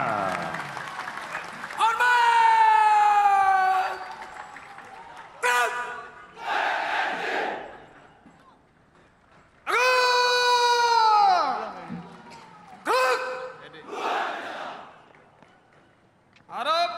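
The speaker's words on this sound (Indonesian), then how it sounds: "Beri tepuk tangan yang meriah." Audience at a military anniversary martial arts demonstration of pencak silat responds with bursts of applause and loud cheering between amplified announcer speech, the crowd swelling several times over long stretches.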